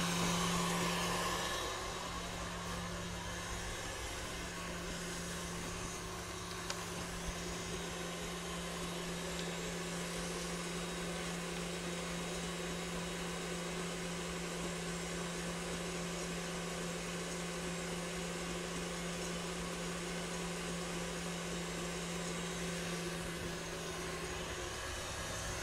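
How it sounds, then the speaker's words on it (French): An electric hand mixer whips egg whites with sugar for a pastry recipe, giving a steady, sustained motor drone with a humming tone, moderately close and unbroken for the whole stretch. "lorsque les blancs sont montés, on va pouvoir donc stopper le batteur"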